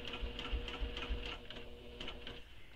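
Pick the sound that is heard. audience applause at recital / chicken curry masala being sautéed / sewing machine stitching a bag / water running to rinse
sewing machine stitching a bag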